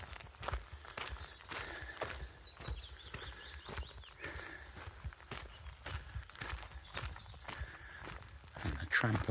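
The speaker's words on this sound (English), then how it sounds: "And the tramp of my feet." Footsteps tramping steadily along a forest track beside logging, a regular crunching rhythm close by, with faint birdsong in the background.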